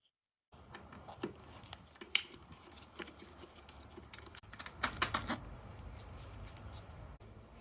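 A 6mm hex key works a seat bolt on a 2003 Honda Shadow Spirit 750, giving scattered light metallic clicks and jangly taps up close, with a denser cluster of clinks near the end.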